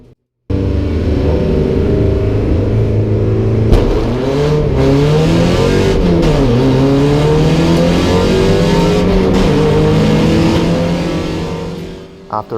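A race car engine roars close and loud through turns one and two in fourth gear, a sustained high revving drone with pitch rising and dipping as it accelerates, fading out near the end.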